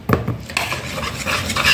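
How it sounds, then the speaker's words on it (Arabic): A whisk stirs a batter of milk, egg, melted butter and sugar in a bowl. A clatter against the bowl opens it, then soft, brief wet swishing and scraping follows close up, with no talk. "نقلب بالراحه، تمام، على مهلك خالص، ونقلب بالويسك بتاعنا"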